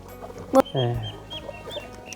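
A chicken, one of the native Thai breed raised for sale, clucks briefly nearby. A short sharp knock comes just before it, and faint background sounds and some talk surround it.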